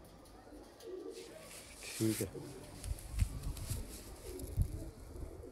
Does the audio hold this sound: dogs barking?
no